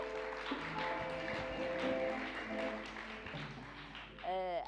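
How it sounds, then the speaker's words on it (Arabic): Young children clapping after a game on a Kuwaiti TV kids' show, a continuous mixed patter of small hands with chatter and voices running through it, moderately loud and near. "هذا تصفيق حق اليهال عاد اللي تعبوا في اللعبه"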